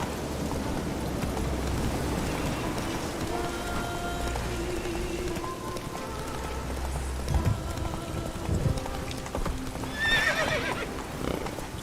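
A horse in The Witcher 3 video game gallops with steady hoofbeats, snorting and whinnying near the end, against a rainy outdoor ambience with game music faintly underneath.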